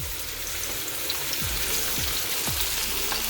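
Steady sizzling hiss of a flour-coated pork chop frying in a pan, with a few low thumps as it is set down, no talking.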